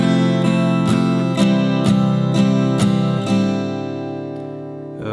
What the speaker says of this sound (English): just basic eighth note strums for each chord